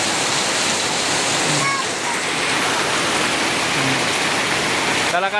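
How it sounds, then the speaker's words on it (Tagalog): Steady, dense rush of heavy rain fills the scene, with faint voices briefly audible beneath the downpour. "Kalakas ng ulan."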